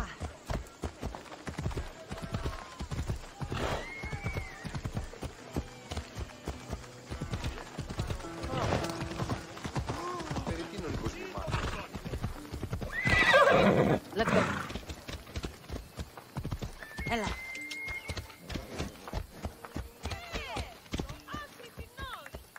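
Phobos, a horse in Assassin's Creed Odyssey, gallops with rapid rhythmic hoofbeats and lets out loud whinnying neighs, while a voice speaks over the riding.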